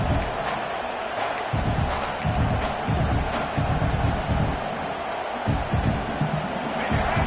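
Dense football stadium crowd noise during a college game between Iowa and Notre Dame, a steady loud roar of cheering that holds throughout with surging shouts and no break.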